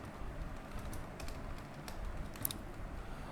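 Quiet, quick clicking of keys as text is typed on a computer keyboard into a Word document, with irregular taps and short bursts and no talking.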